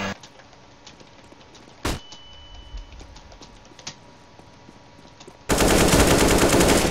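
Automatic rifle fire in the CS:GO video game, with faint distant shots and clicks first, then a loud, continuous close burst of rapid fire over the last stretch.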